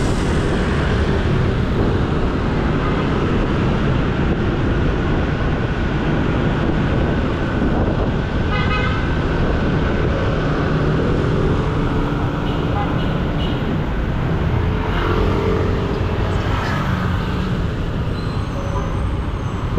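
Heavy road traffic on Mabini Service Road, held up by stoplights: a loud, continuous roar of engines and wind buffeting the microphone, recorded while riding along, with no clear individual vehicles standing out.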